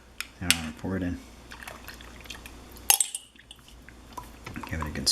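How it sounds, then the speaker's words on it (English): A flour and water mixture pours and splashes into an Instant Pot in short bursts, with a metallic clink of cookware and a voice talking faintly between pours. "I'm going to pour it in."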